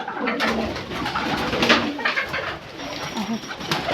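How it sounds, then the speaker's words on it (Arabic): Pigeons cooing steadily close by, with loud, dense rustling and background voices running throughout. "بس الحمام غضبان على العيش لوحده"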